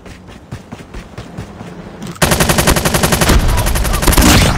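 Assault rifle with an underbarrel attachment firing in a shooter video game: steady, rapid automatic fire, lighter at first and then suddenly louder and denser, continuing without pause to the end.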